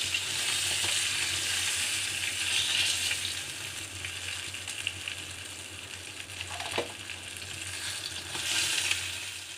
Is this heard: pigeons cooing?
no